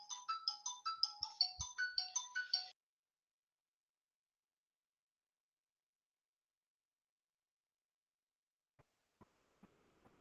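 A phone ringtone plays a quick repeating melodic pattern of bright tones for about three seconds, then stops, leaving near silence broken by a few faint clicks and soft shuffling sounds.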